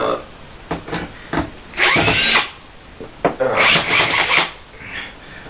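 A DeWalt cordless drill backs screws out of a carbon fiber car part, two close whirring bursts with a few clicks and handling knocks around them.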